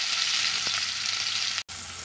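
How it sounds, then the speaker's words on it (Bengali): Sliced onion frying in oil tempered with shahi jeera and black cardamom: a continuous close hiss and crackle that cuts out for a split second near the end, then resumes. "এখন দিচ্ছি ওই ফোড়নের তেলে পেঁয়াজ"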